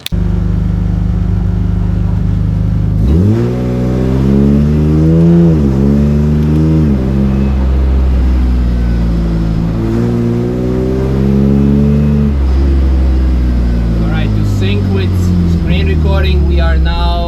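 Full carbon BMW E36 M3 on the Nürburgring, engine revving hard through rising pulls and gear changes, loud in-car drone dominating throughout.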